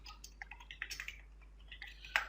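Soft, irregular keyboard clicks tap away quietly for a couple of seconds, scattered keystrokes with no speech.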